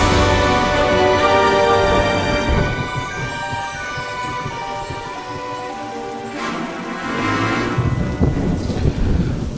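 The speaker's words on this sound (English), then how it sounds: "these storms are getting a little bit out of control" A late-summer thunderstorm with heavy rain in Florida, a loud, steady downpour with deep thunder rolling through, continuous for the whole stretch and fairly close.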